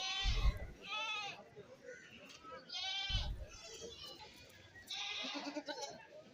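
Goats bleat at a roadside livestock market beside a national highway near Kallambalam, with young and full-grown animals penned together. Several loud, near bleats come in bursts under someone talking, over a busy crowd murmur.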